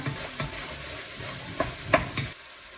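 Ingredients for pancit sauté in hot oil in a pan, with a soft, low sizzle and a few light stirring scrapes and clinks close by.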